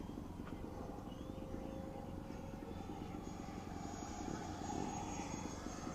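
An E-Flite EC-1500 RC model airplane flies overhead, its electric motor and propeller giving a steady distant drone that stays fairly faint throughout with outdoor background noise and no clear talking.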